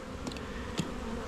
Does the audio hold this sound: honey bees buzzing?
yes